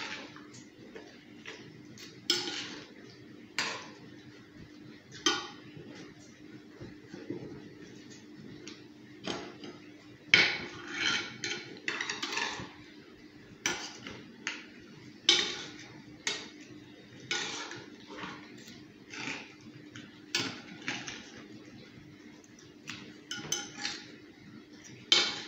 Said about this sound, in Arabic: ها هو غادي نخلطوه مزيان مزيان في